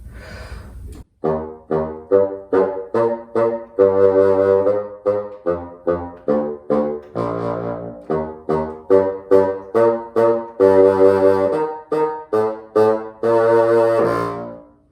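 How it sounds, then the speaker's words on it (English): A bassoon plays a run of low, reedy notes in a slow, detached melody, each tone buzzing with rich overtones and separated by short gaps, close and solo with no speech. "then I'm able to make vibrations and able to play my low sounds."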